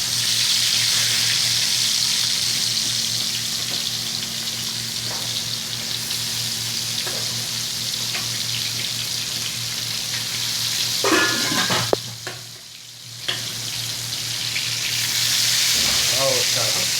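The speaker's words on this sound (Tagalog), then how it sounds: "ilagay na natin yung chicken with mixed curry powder" Chicken coated in mixed curry powder fries in a hot pan for a chicken curry, a loud steady sizzle with brief stirring clatter and a short dip near the end, while a voice speaks occasionally.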